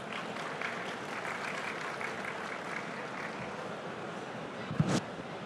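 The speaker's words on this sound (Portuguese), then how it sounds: "Uma salva de palmas." A conference audience at the FEBRABAN TECH 2025 financial-transactions panel applauds, producing a sustained wash of many hands clapping at even volume, with a brief louder bump near the end.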